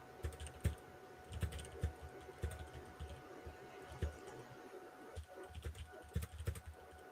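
Rapid keyboard typing clatters in quick bursts of clicks, close and quiet, with a soft steady hum behind it.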